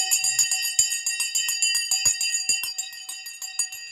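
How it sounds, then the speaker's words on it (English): An electric bell rings continuously as the stock market closes, a loud, bright, rapidly pulsing clang that slowly fades over a few seconds. "We're going to ring the bell."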